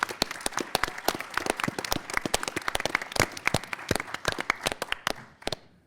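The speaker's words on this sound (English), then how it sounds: "Let's give a big round of applause for our contestants," Loud, sustained audience applause fills a theater for contestants at the final round of the Texas Quiz Show Championship, a dense steady patter of many hands clapping close by that tapers off at the end.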